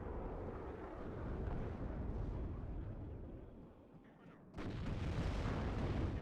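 Explosions and gunfire rumble through a WARNO real-time strategy battle, a dense, continuous barrage of booms and shots that dips briefly before surging back loud.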